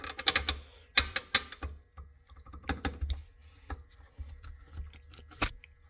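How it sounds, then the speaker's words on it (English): Small hydraulic lifters for a Kohler engine dropped one by one into their bores, giving sharp metallic clicks and taps in uneven clusters, close and fairly quiet with no talk. "So now you drop them down in those little holes there."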